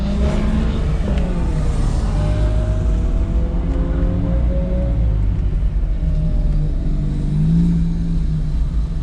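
An Acura Integra engine drones loud and close on a race track, rising slightly as it revs and holds speed, with steady road rumble and no voices.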